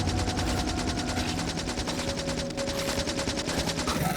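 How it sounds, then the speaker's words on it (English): Rapid machine gun fire from a player firing yellow ammo at a few medium biters in Factorio, a dense continuous rattle of shots running loud and steady through the whole stretch with a faint tonal hum beneath, no talking. "I go in with just my pea shooter of a machine gun with yellow ammo."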